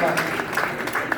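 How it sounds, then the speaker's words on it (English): An audience at a jazz festival lineup reveal applauds Calvin Walker in a brief burst of steady clapping, with a voice speaking over it. "give him a rousing round of applause"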